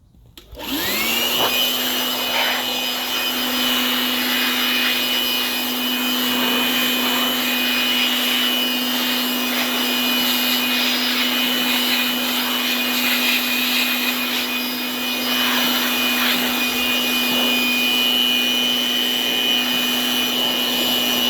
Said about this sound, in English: I'm gonna blow on this for a minute. See if I can dry out the center there real good.